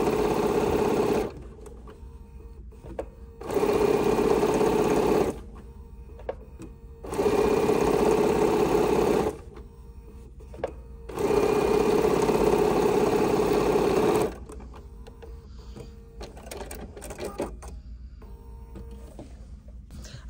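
A sewing machine stitches fabric strips together in three sustained whirring runs separated by quiet pauses, with faint handling clicks and rustles as the fabric is repositioned.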